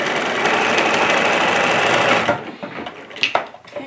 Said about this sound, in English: I'm just going to stitch right along that last one in exactly the same way